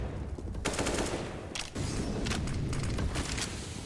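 Sustained SMG fire through smoke in a competitive CS:GO match on Nuke, a dense rattling spray with brief gaps and crackling shots over steady game ambience.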